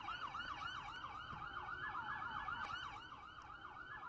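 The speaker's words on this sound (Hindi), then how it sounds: "सायरन की आवाज भी वहां पर सुनाई दे रही है" Emergency vehicle sirens wail in a fast rising-and-falling cycle at a gas station shooting scene in Omaha, steady and moderately distant with faint traffic beneath and no voices.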